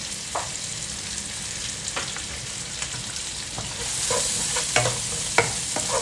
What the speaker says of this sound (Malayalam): ഇനി നമ്മൾ ആ ഓയിലിൽ തന്നെ നമ്മുടെ ഉള്ളി ഇട്ടിട്ട് വഴറ്റിയെടുക്കാം